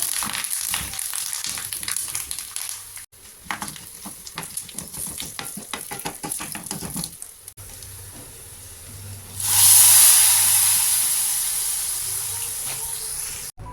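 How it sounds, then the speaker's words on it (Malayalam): A hot tempering of dried chili, curry leaves and chili powder sizzles steadily in the pan, then is poured into a Kerala-style dried prawn and mango curry with a sudden loud, hissing sizzle that slowly fades. "ചൂടോടെ ഞാനിത് കറിയിലേക്ക് ഒഴിച്ചു കൊടുത്തിട്ടുണ്ട്"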